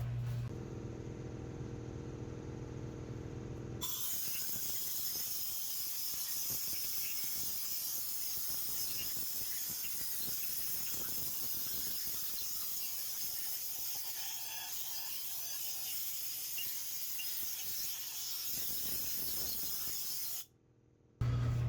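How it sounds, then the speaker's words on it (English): Compressed air hissing steadily as it blows debris off a Duramax LB7 diesel engine, a loud continuous broadband rush lasting most of the stretch with a hum before it starts and a short pause near the end. "I'm going to turn on the compressor and just kind of blow it out a little bit"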